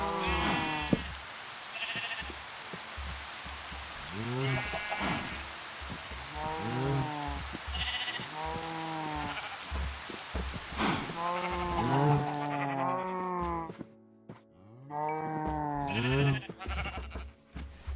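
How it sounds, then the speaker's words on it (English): Sheep in a building video game bleat over and over, with loud, close calls repeating against a steady hiss like rain, and no talk over them. "I got this sheep in there"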